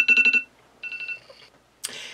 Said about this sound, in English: And the timer is up.